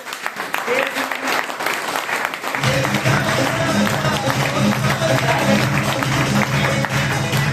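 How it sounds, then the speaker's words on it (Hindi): Audience at a business meeting bursts into applause, a dense, loud wall of clapping that swells after a few seconds and holds steady, with voices mixed in beneath. "ताली बजा लो अगर बोर हो रहे हो तो"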